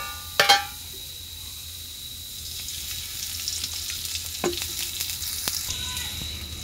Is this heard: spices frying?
yes